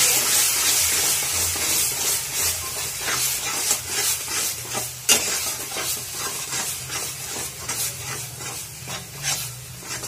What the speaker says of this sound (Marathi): तर आपल्याला हा मसाला चांगला असा हलवून घ्यायचा आहे